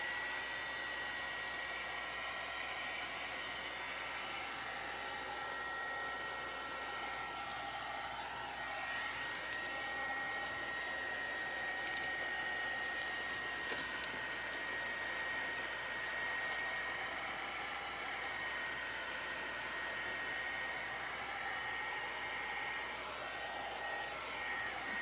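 A hair dryer blows steadily and loudly at close range for a long stretch, drying a handmade Christmas craft sign, with an unbroken whooshing roar and no talking.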